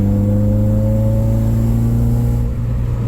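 Honda K20 Type R engine pulling hard in gear: loud, steady close-up drone with strong low harmonics, holding pitch throughout with no voices.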